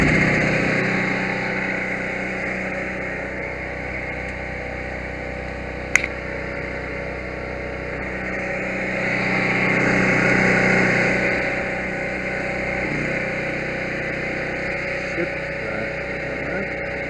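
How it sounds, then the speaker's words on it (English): A portable generator engine runs aboard a budget bowfishing boat as a steady, loud mechanical drone that swells and eases slightly, with one sharp click partway through. "I'm going to crank up my generator, and we're going to test out these lights right quick."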